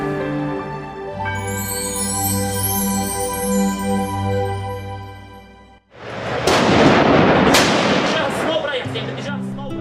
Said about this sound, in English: At the sound of gunfire, everyone looks fearful and apprehensive.